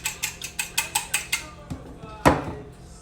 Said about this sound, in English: Whisk up my egg.